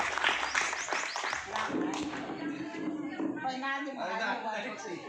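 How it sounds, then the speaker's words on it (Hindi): Audience at an outdoor political gathering clapping in scattered, uneven bursts, with talk and crowd murmur running underneath throughout. "कृपया इसके लिए जोरदार ताली बजाएं"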